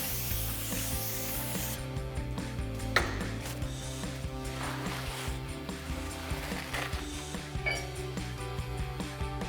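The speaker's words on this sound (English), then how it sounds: "spray it down and wipe it down." Brake cleaner hisses from a spray can onto a Jeep Wrangler JL brake rotor, then a microfiber towel rubs and wipes the metal with soft scuffing strokes, close and moderately quiet.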